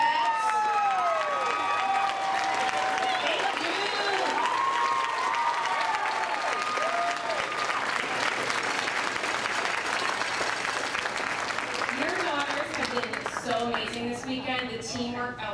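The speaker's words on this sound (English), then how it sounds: "So if you stand up, we'd love to applaud you." Pageant audience at Miss Teen USA applauding the contestants' parents, sustained clapping mixed with cheers and high whoops for the whole stretch, thinning slightly near the end as voices emerge.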